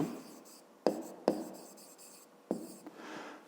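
Writing out a math expression for a fifth-grade exercise: a steady scratchy stroke sound broken by three sharp taps, close and fairly quiet, with no talking.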